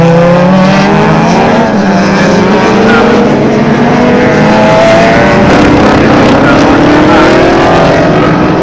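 Saloon race cars, including a Mitsubishi Mirage Evo, scream past at a Ruapuna club day, their loud revving engines rising and falling in pitch as several cars pass close by in quick succession.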